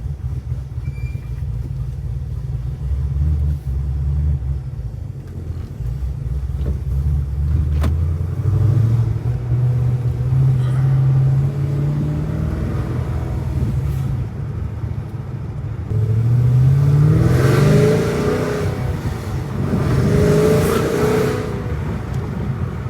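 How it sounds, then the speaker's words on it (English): A supercharged Chevy SS V8 engine drones steadily inside the moving car, swelling twice into louder revving surges with rising pitch near the end, no talking. "So you're gonna hear a lot of V8 noises."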